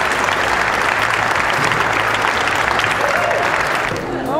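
Loud, dense applause from a crowd gathered to close a three-week innovation and entrepreneurship program, steady clapping throughout with a voice briefly rising near the end.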